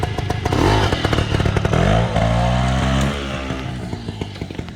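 A Bultaco 350 trials motorcycle, geared very low, runs close by with a loud, steady engine note that rises and falls through a couple of revs before settling to a quieter idle-like drone.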